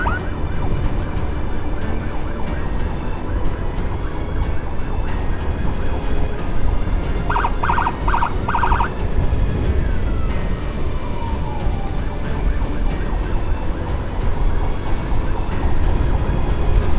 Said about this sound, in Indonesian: Ini ambulan mana ini?